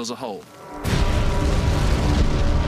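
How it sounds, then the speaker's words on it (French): A World War I artillery shell blast tearing apart a barbed wire obstacle on the Somme battlefield: a sudden heavy boom cuts in after a short sweeping whistle, then a sustained roaring rumble of debris fills the rest. "La déflagration a soufflé l'obstacle et l'a réduit en miettes."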